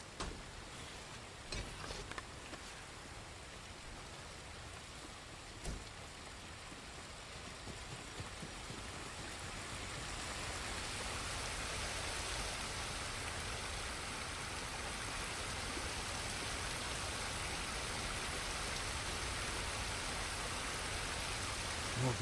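Steady broadband rushing of a waterfall in the video game Ghost of Tsushima, a constant wash of falling water that grows fuller and louder partway through, with a few faint clicks early on and no talk.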